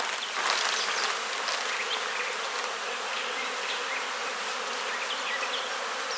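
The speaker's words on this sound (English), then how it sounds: "It's just a frame of nurse bees. I can shake it right here." A dense, loud swarm of honey bees buzzes steadily and close at hand after nurse bees are shaken from a hive frame while boosting a small split colony, with no talk.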